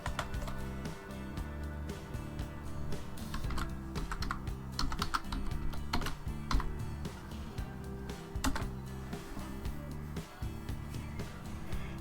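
Rapid keystrokes on a computer keyboard as a document title is typed, ending with a press of the Enter key; the clicks are quiet and close, over a faint steady background hum.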